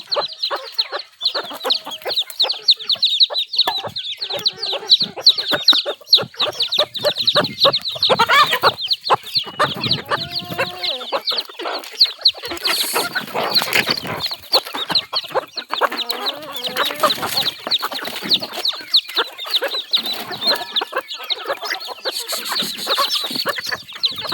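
A hen clucks over her newly hatched chicks, with a dense stream of close, repeated clucks and high peeping running steadily through the whole stretch. No one speaks.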